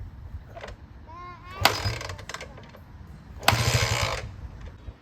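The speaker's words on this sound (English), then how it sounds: "I got it to barely start on starting fluid." A 1977 Honda XL100 motorcycle with its choke on, run on starting fluid, coughs into life only briefly: two short sputtering bursts break a quiet background, the second lasting under a second before fading.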